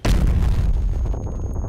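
A 100mm cannon on a Thunderer tank destroyer in Crossout fires one heavy, loud boom that rolls into a long low rumble and slowly fades.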